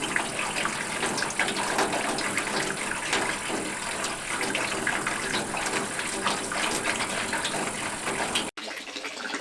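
Steady rushing water pours continuously into a water tank from a gravity-fed off-grid cabin system, a broad even gush that cuts off abruptly near the end.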